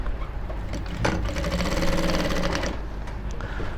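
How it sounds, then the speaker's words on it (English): A close sewing machine hums in one continuous rapid stitching run while hemming the lower edge of an Ankara print top, steady and loud over a low motor drone. "sew the down part from here"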